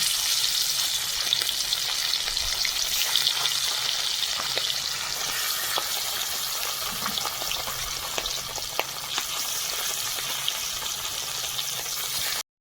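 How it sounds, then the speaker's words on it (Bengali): Hilsa fish pieces fry in hot oil for mustard hilsa, a loud continuous close sizzle with fine crackling and occasional soft spatter throughout. "মাছ ভাজার তেলে আবার মাছ ভেজে নেব।"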